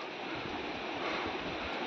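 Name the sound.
sea waves at Harihareshwar beach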